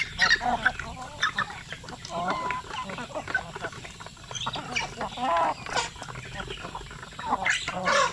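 Chickens sold by the kilo, including young two-month-old birds, cluck and call on a farm, a busy overlapping chatter at moderate level with a person talking over them.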